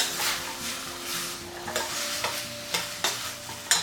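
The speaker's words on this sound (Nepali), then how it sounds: "एकैछिन अब यो हामीले लसुन र अदुवालाई पाक्न दिउँ" Ginger and garlic frying in a pan while being stirred with a large spoon: a continuous close sizzle broken by repeated scraping strokes and light clinks of the spoon against the pan.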